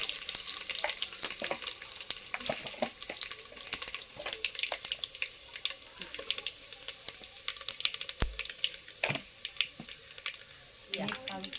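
Mustard seeds, cumin, ginger, curry leaves and a little chili powder crackle and sizzle in hot oil for a village-style jackfruit dish, with sharp scattered pops over a quiet hiss, close and fairly soft.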